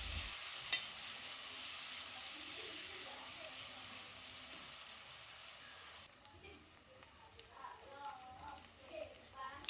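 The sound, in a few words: pork and onions frying and being stirred in a pot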